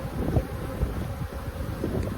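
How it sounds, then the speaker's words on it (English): Honey bees crowd the bottom box of a beehive, giving a low, continuous buzzing hum close to the microphone, with some wind noise mixed in. "the bottom box is full of bees"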